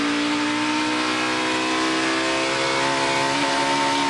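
A race car engine screams at high revs during 2018 Johnsonville 180 Busch Pole qualifying, holding a loud, buzzing whine against the rev limiter without letup.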